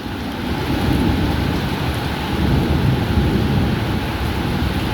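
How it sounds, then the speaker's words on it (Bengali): Heavy rain pounding down at a construction work site abroad, a dense, steady roar with low rumbling that may be thunder, loud and continuous throughout with no talk. "কিছু দেখা যাচ্ছে না বৃষ্টির কারণে"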